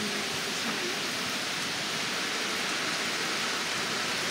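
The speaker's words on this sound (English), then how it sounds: "It's pouring out here. It's pouring." Heavy rain pours down in the woods, a dense, unbroken hiss that stays loud and steady throughout with no voices.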